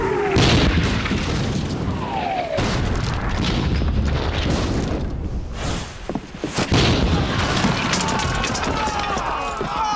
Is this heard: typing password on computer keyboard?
no